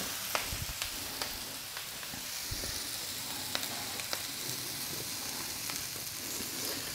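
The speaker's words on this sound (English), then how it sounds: "I'm going to go ahead and get our onions on." Onions frying on a Camp Chef FTG600 flat-top griddle give a steady, close sizzle with scattered soft pops and crackles throughout, no voices.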